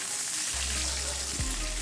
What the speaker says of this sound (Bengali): ফোড়নে দিয়ে দিলাম তেজপাতা আর পেঁয়াজ